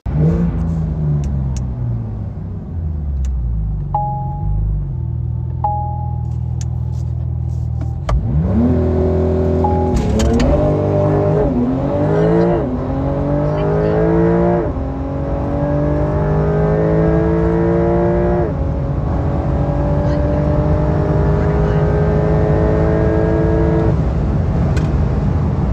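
A 2023 Porsche 911 Turbo S accelerating hard through a 60-130 mph run, its engine note climbing through several gear changes with rising whine and deep rumble, loud and sustained for the whole stretch, with no speech.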